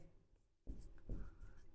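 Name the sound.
writing an equation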